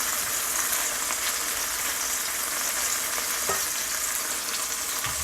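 Fried rice is stir-fried in oil with soy sauce, giving a steady, close sizzle and crackle with light scraping and no talking throughout.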